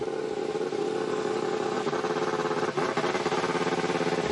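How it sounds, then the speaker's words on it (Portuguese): A Honda Formula 1 engine screams during official practice at Silverstone, a dense, high-revving buzz that holds nearly constant with brief dips as the car passes at a distance. "Olha o barulho do motor Honda, como é diferente,"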